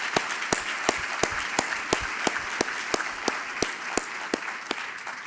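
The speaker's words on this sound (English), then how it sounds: "give yourself a round of applause for that" Audience applause at a public education gathering, a broad steady wash of many hands clapping with sharper individual claps punctuating it throughout, sustained at an even level.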